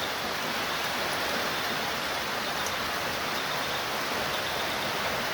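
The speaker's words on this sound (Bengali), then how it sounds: "ভালো বৃষ্টি হচ্ছে।" Heavy rain falls at a trekking homestay in Lepchakha in the Dooars hills, a thick, unbroken roar of downpour that stays constant and fills the whole scene.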